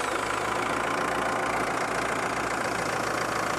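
A Kubota M9960 tractor engine idles with a steady, loud, close rumble and an even mechanical patter, continuous throughout with no speech.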